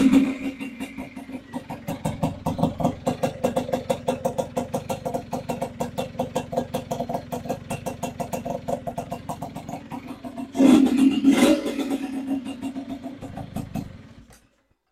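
A racing underbone motorcycle engine idles with a rapid, regular knocking pulse, then revs up louder for a couple of seconds before settling back and cutting out.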